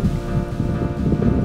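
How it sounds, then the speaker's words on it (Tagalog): Steady strong wind buffets the microphone at a beach campsite, a dense low roar with gusty swells throughout, loud and unbroken. "Lakas ng hangin."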